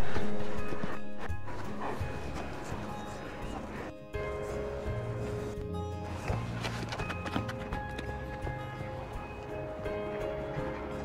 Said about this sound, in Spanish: Entró el caballo, como es un caballo entero, entró primero oliendo las señales que hay por aquí